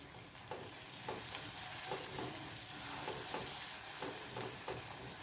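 Finely chopped tomato frying in a pan for a soya chunks dish, a steady sizzle with regular stirring scrapes about every half second, close and continuous, without any voice.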